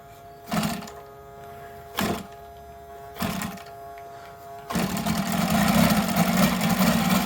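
A UMS 7-90 seven-cylinder radial gas engine makes three brief, separate bursts as it turns over, then catches and settles into a steady, rapid idle that runs loud and close until the end.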